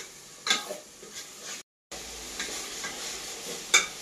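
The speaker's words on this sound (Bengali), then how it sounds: "আমার মশলা ভাজা হইল।" Spices fry quietly in a pan while cooking chicken biryani, a soft low sizzle with a few scraping stirs and clinks, briefly cutting out midway.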